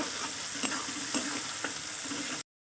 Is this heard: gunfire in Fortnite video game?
no